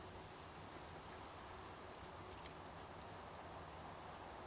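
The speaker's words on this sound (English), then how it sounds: "White noise of the rain makes me sleepy." Steady rain falling, a faint, even hiss of white noise that continues without change.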